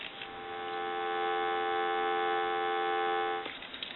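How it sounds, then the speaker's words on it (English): A telephone dial tone from a Snoopy and Woodstock novelty phone hums steadily and fairly quietly for several seconds, then ends with a soft click. "I'm going to give you some dial tone."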